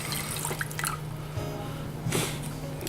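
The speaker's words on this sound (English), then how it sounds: "I'm going to add some water." Water pours and splashes into a pan in a home kitchen, short irregular dribbles and a louder gush near the end over a steady low hum.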